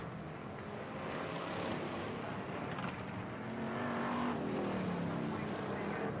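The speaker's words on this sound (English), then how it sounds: "There's Fording just going past Wayne Handley on the back straight" BriSCA Formula 1 stock cars race at Northampton in 1987, engines roaring steadily from mid-distance with rising and falling pitch as cars pass along the back straight, a continuous dense motor drone throughout.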